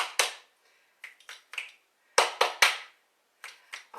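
Finger snaps and clap snaps during a stretching session, a dozen or so sharp, close cracks in irregular clusters with silence between them.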